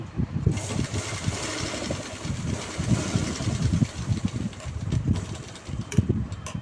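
A sewing machine stitching pant fabric for pleats, running in quick rhythmic bursts of mechanical rattling, fairly close and continuous with brief changes in pace.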